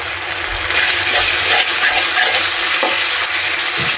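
Shing fish and masala stir-fried in a pan, a steady loud sizzle of oil with the scrape and clatter of a spatula stirring throughout, no voices.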